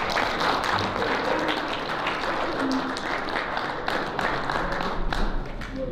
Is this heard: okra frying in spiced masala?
no